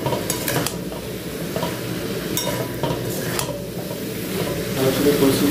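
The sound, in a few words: sautéing potato and soybean curry with cumin and coriander powder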